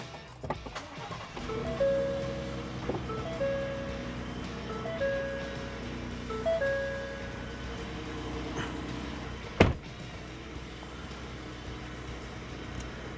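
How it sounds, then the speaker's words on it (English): A Ford F-150 pickup truck powers on while parked, giving a series of soft electronic chimes and tones along with faint whirring and a sharp click, quiet and close with no talk. "let's go ahead and power on the truck"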